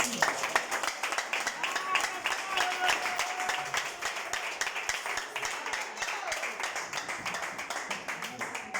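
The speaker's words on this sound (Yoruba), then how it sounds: "pàtẹ́wọ́ fún Jésù. Clap." A church congregation claps for Jesus during a service, fast rhythmic hand claps ringing out steadily and fairly close, mixed with a preacher's voice talking over them.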